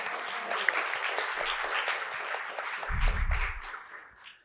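Audience applause for Andy Guthrie at an arts showcase event, a moderate room of clapping that swells with a low thump midway and then thins out.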